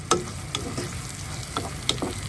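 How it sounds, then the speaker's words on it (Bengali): Shrimp frying in a pan at home, a steady close sizzle with a few sharper crackles and spits scattered through, no voices. "চিংড়ি বসাচ্ছি"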